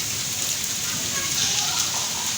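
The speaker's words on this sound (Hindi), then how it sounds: "ये कैमरे में इतनी नज़र नहीं आ रही होगी लेकिन बहुत ज़्यादा बारिश है" Heavy rain pours outside, a dense, steady hiss of downpour filling the whole clip without pause.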